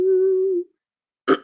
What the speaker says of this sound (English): Sorry, I'm clearing my throat the whole time.